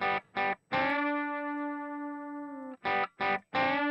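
An electric guitar played through processing that emulates a KSM32 microphone, with the bass raised, gives short distorted chord stabs, then one long ringing chord that sustains and decays, then three more quick stabs, close and loud with no talk.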